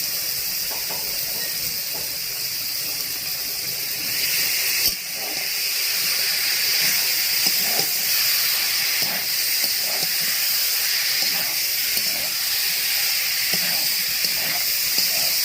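Shredded cabbage fries in a pan with potatoes and fish head, giving a steady close sizzle and hiss that swells slightly partway through, with faint stirring clicks and no talk.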